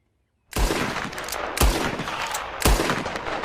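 A gun fires three loud, booming shots about a second apart in a Red Dead Redemption 2 themed western short film, each blast followed by sustained ringing noise.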